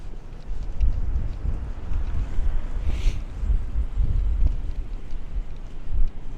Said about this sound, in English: It is very windy out.